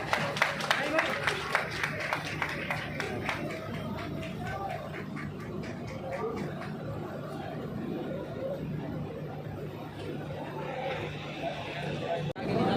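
Audience applause welcoming guests at the grand opening of a multi-speciality hospital, a steady wash of clapping from a crowd, fairly distant and moderate in level, with chatter and voices mixed in throughout.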